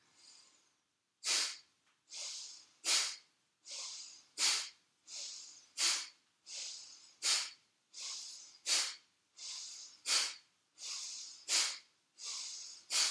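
Rapid, forceful Bhastrika yoga breaths, about a dozen sharp hissing pulses in a steady, fast rhythm, each inhale and exhale pushed hard through the nose, close and prominent with no speech over them.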